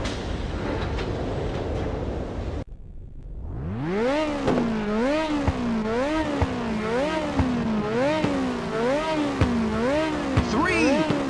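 Race car engines in Ridge Racer on PSP rev at the start line, rising in pitch from near silence and then swelling and dipping in repeated rhythmic revs, loud and close.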